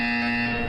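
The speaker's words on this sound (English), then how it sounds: "You will hear a buzzer." A single harsh electronic buzzer from the video game Path of Exile, one loud sustained tone lasting under a second and ending abruptly.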